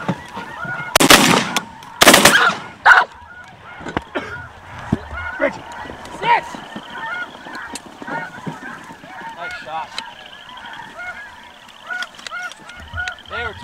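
Wild geese honk in a dense, overlapping chorus over decoys during a goose hunt, with thousands of birds calling near and far. Two loud shotgun blasts open the scene, and the calling continues steadily afterward.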